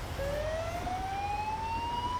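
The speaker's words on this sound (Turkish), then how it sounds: "Uzun siren iyi çalıyor." A single long fire engine siren tone in GTA 5 rising slowly in pitch, steady and fairly quiet over a low rumbling background hum.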